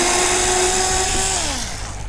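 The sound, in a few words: drill bit drilling through wooden frame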